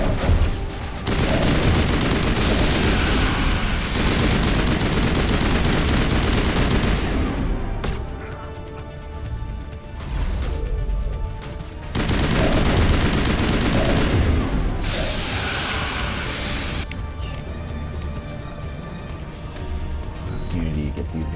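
Rifle fire and battle noise from the Mass Effect Legendary Edition video game, including a sniper rifle, come as loud, dense bursts of shots and booms throughout a continuous firefight.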